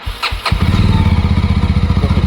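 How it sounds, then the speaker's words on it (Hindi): A Mahindra Mojo 300 motorcycle cranks with a few quick thumps, then its engine catches and settles into a loud, steady, rhythmic idle close by. "आप जैसे आप देखते हैं whenever we start our bikes"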